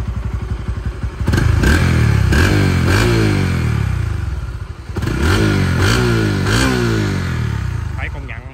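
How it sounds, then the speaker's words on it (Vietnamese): A Honda Winx motorcycle engine runs up close, surging and revving in waves with a rough, clattery putter between them. "Xe này máy nổ thì rất là êm luôn"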